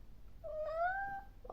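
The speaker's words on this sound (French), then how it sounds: "j'ai un chat bavard. Il est marrant. Il a une petite voix aiguë et c'est un grand bavard." A talkative house cat gives a single rising, high-pitched meow lasting about a second, close and clear in a quiet room, followed by a brief sharp noise at the end.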